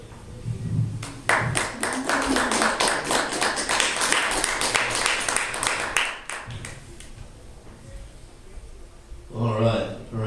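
Audience at a book discussion for a reading breaks into sustained clapping lasting about five seconds, dense and fairly close, with a speaking voice before and after.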